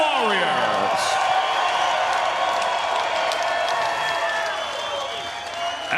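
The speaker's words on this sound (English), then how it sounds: "let's have a round of applause for these 2 warriors" A crowd applauds two fighters after a bare-knuckle strawweight championship bout, a steady wash of clapping and cheering throughout an arena, with a little chatter underneath.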